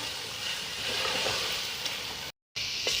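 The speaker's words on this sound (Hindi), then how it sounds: "अब इस कीमे की करेंगे हम थोड़ी भुनाई टमाटर के साथ" Mutton mince frying with tomatoes in a pan, a steady close sizzle and hiss that cuts out for a moment and then resumes, with faint stirring and no voices.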